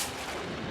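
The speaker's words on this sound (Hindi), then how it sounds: "ये तो गोली की आवाज है" A dense, booming burst fills the moment, a muffled gunshot-like blast with rumbling low end and broad noise, no voices.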